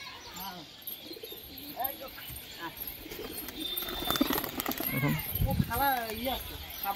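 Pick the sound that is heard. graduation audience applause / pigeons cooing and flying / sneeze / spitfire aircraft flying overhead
pigeons cooing and flying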